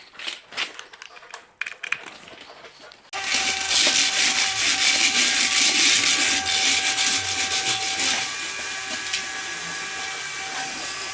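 A vacuum cleaner runs loud and steady on a floor being cleared before primer is applied for self-levelling mortar work, starting abruptly after a few seconds of quieter handling noises and then droning on with a slight drop in level.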